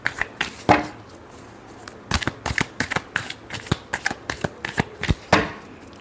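Tarot cards are riffled and shuffled by hand, with quick bursts of crisp flicking and snapping in an irregular rhythm. The cards are close and fairly loud, with no talk over them.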